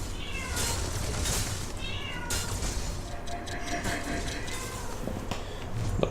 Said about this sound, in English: One of my cats is having issues.